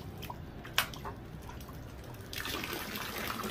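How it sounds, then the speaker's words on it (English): Water pours from a lion head fountain into a pool at a villa in Puerto Vallarta, Mexico, a steady soft splashing and trickling that swells slightly toward the end. "When you turn that on, the water starts coming out of the lion head."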